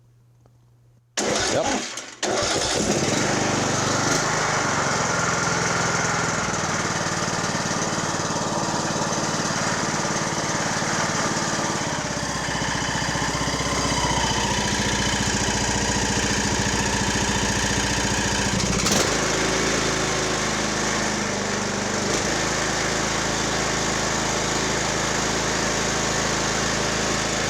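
A Poulan Pro 185A42LT riding mower, choked and jump-started from a booster pack, cranks briefly and then catches, settling into a loud, steady engine run close by that continues throughout with a short hitch near the end; someone speaks a single word early on.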